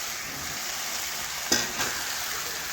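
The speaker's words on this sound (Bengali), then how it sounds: "এখন ভালোভাবে নাড়াচাড়া করে মশলার সাথে চিকেনটা একটু রান্না করে নেব।" Chicken and potatoes fry in a spice masala in a pan. A soft, steady sizzle runs throughout, broken by a couple of brief spoon scrapes as the mixture is stirred. The sound is quiet and there is no talking.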